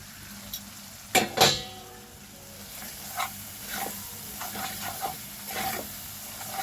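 Ground spices fry in hot oil for a Bengali rui fish curry, a low steady sizzle broken by a couple of sharp clatters of a spoon against the pan and soft stirring scrapes.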